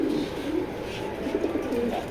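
Racing pigeons coo steadily and close by, a soft continuous murmur of throaty coos from a top-quality racing pair kept in a loft, with no other sounds over them.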